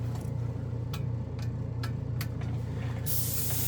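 A Gaahleri Barbatos Rex Swallowtail airbrush sprays paint at raised pressure: a steady hiss of compressed air, continuous over a low mechanical hum, with a few brief clicks and a brighter burst of spray near the end.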